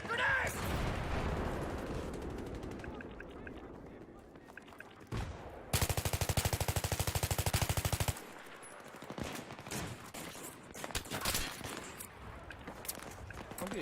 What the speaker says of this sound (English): I'm getting hit with shotguns and shit, bro